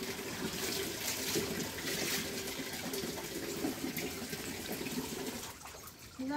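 Water runs steadily and fairly loud from a tap or shower while a Labrador dog is bathed, a continuous splashing flow that stops near the end.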